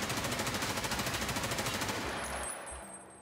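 Fully automatic rifle fire from an M4A1 or AKM in Escape from Tarkov, a fast, even stream of loud close shots that stops sharply after about two and a half seconds, leaving a brief fading tail.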